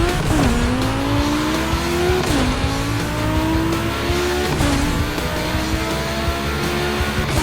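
Racing cars tear around a track in the video game The Crew Motorfest, engines revving hard with repeated gear-shift drops and tire squeal, loud and continuous with no talking.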